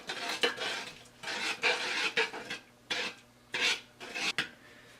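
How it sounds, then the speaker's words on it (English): Sugar water for rock candy is stirred in a pot, giving repeated gritty scraping strokes of a spoon against the bottom in uneven bursts, near and fairly loud, with no talk. "And we're just going to keep on stirring."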